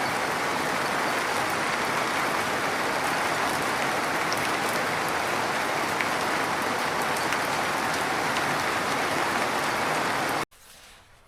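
Rain falling steadily on a forest trail in the Scottish Highlands during a Cape Wrath Trail hike, a dense constant patter of drops on surfaces that cuts off abruptly near the end, with no talk.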